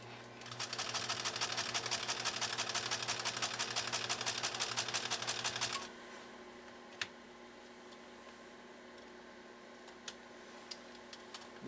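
A Pfaff 332 sewing machine straight-stitches commercial grade canvas with a steady, rapid mechanical chatter for about five seconds, then stops, leaving a quiet room with a few faint clicks.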